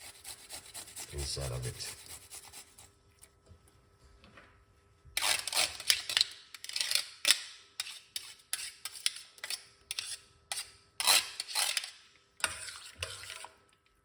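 Three garlic cloves are grated on a grater, a rhythmic run of short rasping strokes that comes in bursts and sounds close and moderately loud after a brief spoken stretch.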